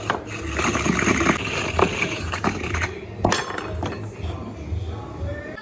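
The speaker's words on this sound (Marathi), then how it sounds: "आता डायरेक्ट किसून घेतो." Grating for modak filling on a grating machine, a continuous scraping rasp with clinking and rubbing knocks running steadily throughout, close and fairly loud.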